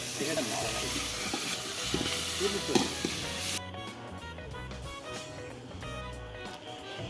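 Tomatoes fry in a pan for chicken biryani, a continuous close sizzle with some stirring, partly covered by background music and faint talk in the second half.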